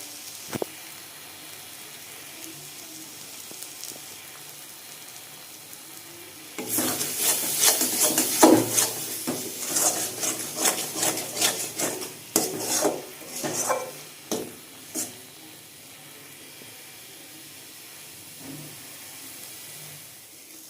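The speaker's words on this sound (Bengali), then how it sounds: "এবার আরেকটু কষিয়ে নেব তাহলে মশলাটা হয়ে যাবে" Spice masala for a pointed gourd and prawn curry being stirred and fried in a pan, with a faint sizzle at first, then several seconds of loud scraping and rubbing strokes from a spoon, easing back to a quiet sizzle.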